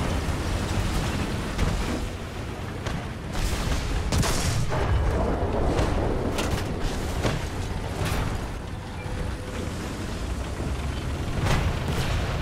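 Tank explosions and heavy booms from War Thunder combat, with repeated loud blasts and rumbling bursts over a dense, continuous battlefield din.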